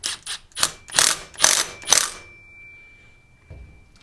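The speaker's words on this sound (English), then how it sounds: "give it a couple oogas on the impact, and go from there" An impact wrench snugs a clutch cover nut with several short, loud rattling bursts close by, followed by a faint lingering ring and then quiet.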